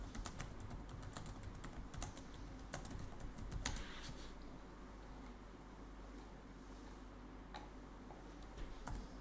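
A message for a Telegram channel is typed on a computer keyboard during a forex trading session. Soft, rapid key clicks come in scattered runs over a steady background hum, thinning out toward the end.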